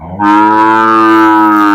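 A Sahiwal bull calf gives one long, loud, sustained moo, close and alone, with steady tone throughout.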